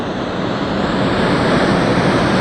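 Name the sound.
water rushing through the Gariep Dam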